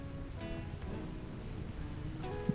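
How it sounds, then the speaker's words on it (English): Rain in the colony-building video game Rimworld gives a soft, steady patter over faint music-like tones, with a couple of brief louder taps near the end. "Rain has started, I thought."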